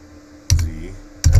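Keys are typed on a computer keyboard at a command line. Two short, close clusters of keystrokes come about a second apart.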